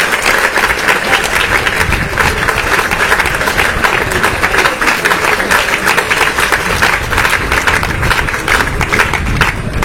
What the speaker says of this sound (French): il faut l'applaudir jusqu'à ce qu'il arrive ici